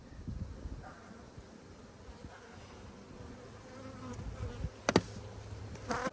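Honeybees buzz around an open hive during a spring inspection, a steady, dense drone close by with a few louder individual bees passing near, and no talking.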